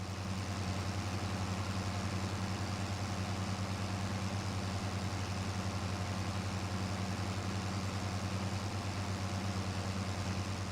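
A tractor engine in Farming Simulator 22, stuck in first gear while spreading slurry on a meadow, drones as a steady, even low hum with no change in pace over the whole stretch.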